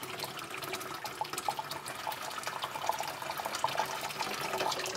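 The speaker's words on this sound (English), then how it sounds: "So I'm just going to add a little bit of warm water into my sink." Warm water runs from a tap into a kitchen sink with a steady splashing rush, close and continuous with small drip-like spatters on top, and no talk.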